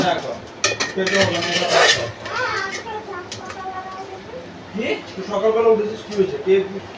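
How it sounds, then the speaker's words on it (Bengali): Boiled mutton being scooped out of a cooking pot, with metal utensils clinking and scraping against the pot, while a voice and children chatter in the background. "মাংসগুলো আমি ভালো করে ছেঁকে ছেঁকে তুলে নেব।"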